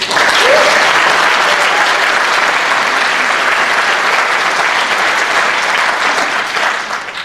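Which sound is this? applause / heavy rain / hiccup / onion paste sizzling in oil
applause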